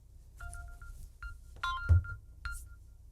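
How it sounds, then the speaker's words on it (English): Samsung Galaxy 22 phone set ringing from a Samsung QN70F television, a few short, faint electronic tones and beeps in a quiet room, spaced irregularly. "if you have a Samsung phone, you can also set it up to ring"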